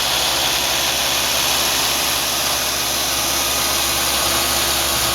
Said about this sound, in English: Again, it's the Kalamazoo 2FS V-belt driven belt sander.